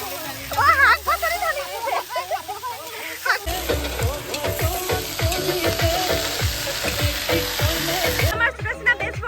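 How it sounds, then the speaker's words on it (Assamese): Vegetables frying in a pan at a picnic cookout, a steady loud sizzle with stirring and spattering that fills most of the stretch, while people talk over it. "আমাৰ সুদক্ষিণা দিলে ভাজি ঢালি দিলে শাক পাচলি ঢালি দিছে"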